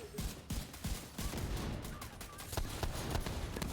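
Rapid gunshot bursts from The Division 2 video game, a string of sharp cracks packed close together over a constant rumbling game backdrop, with no talk.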